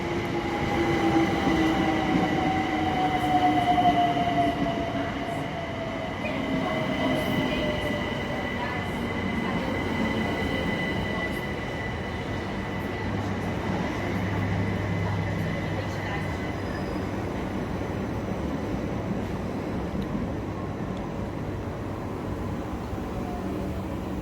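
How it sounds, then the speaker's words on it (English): Southeastern Class 376 electric train, unit 376004, pulling into a suburban station on a London Charing Cross service, a rising electric whine and rolling wheel rumble building nearby, then settling into a steady low hum as it slows. "Arriving now is the 1347 Southeastern service to London Charing Cross."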